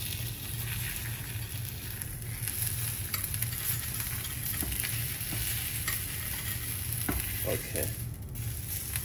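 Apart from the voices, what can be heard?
egg frying in carbon steel pan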